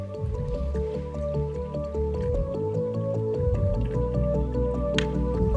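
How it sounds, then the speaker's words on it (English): Water poured carefully into a newly aquascaped aquarium over sand substrate and gravel, giving a steady close trickle and splash with dripping, bubbly tones that run the whole time. "Putting in the water is it's a process on its own, because you have to do it carefully"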